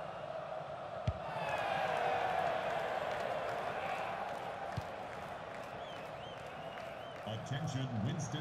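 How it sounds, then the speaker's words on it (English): In FIFA 19, a stadium crowd does a Mexican wave during an MLS match between Houston Dynamo and LAFC, a broad, swelling roar of cheering that rises and then settles under a commentator's talk. "the crowd indulging in a Mexican wave"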